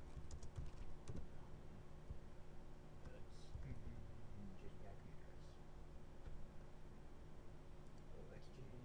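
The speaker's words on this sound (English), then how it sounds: "Typing." Fingers tap steadily on a computer keyboard while setting up network interfaces, producing a run of quick, close keystrokes with a faint murmuring voice in the background.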